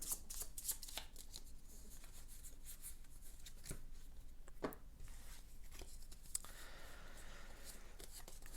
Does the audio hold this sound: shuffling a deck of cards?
yes